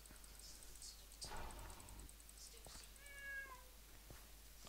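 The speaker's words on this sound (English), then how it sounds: "Oh my god, there's a cat." A cat meows in Minecraft with the Mo' Creatures mod, a few short, fairly faint meows over quiet in-game ambience with a faint repeating high tone.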